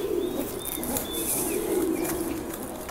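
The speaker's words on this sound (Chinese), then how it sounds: "看这个是公鸽子" A male Tieniu pigeon coos repeatedly, with soft rolling low calls close by. Light chirping from other birds sits faintly behind it.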